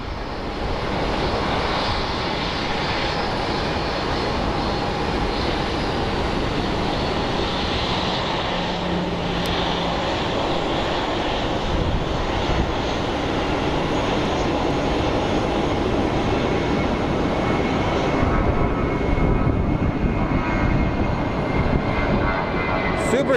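A light airplane passes at Sky Harbor Airport, its engine a steady, loud, broadband roar that holds for over twenty seconds with little change in level.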